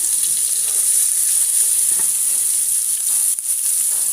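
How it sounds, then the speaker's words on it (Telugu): Onions frying in a pan for an onion and tomato curry: a close, continuous bright sizzle with faint stirring scrapes and no voices. "ఆనియన్స్ వేసేసుకుంటున్నాను"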